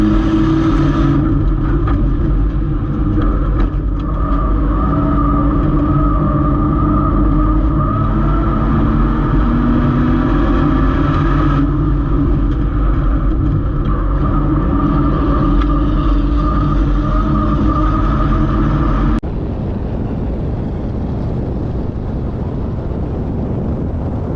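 Loud, continuous engine drone from inside a race car during the Freedom Factory Altima 600 enduro, with other cars close ahead, sustained roar and wind buffeting throughout, dropping abruptly near the end.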